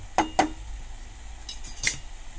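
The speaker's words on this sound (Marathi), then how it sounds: "मिक्स करून घ्यायचे।" Beetroot halwa with cardamom powder being mixed in a pan, heard as a few sharp metallic spoon clinks and scrapes against the pan, close and otherwise quiet.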